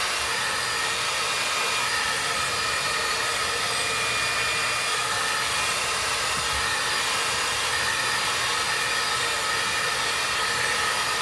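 A hair dryer blows steadily and loudly at close range throughout, a constant broad rushing hiss during a brush blowout with the dryer held right against the head.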